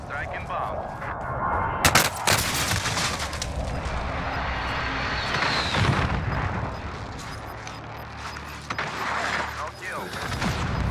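Explosive booms and gunfire from a called-in air strike in Call of Duty: Warzone (Modern Warfare), with a sharp blast near two seconds and dense rumbling, crackling impacts throughout, under intermittent voice chatter.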